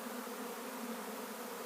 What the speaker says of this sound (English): and I hear this buzzing. I think, what the heck? Look at those bees.